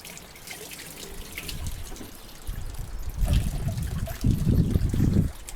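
Rusty tools get stirred in an acid bath, making wet sloshing and trickling sounds that build in intensity toward the end, close by and with no talking.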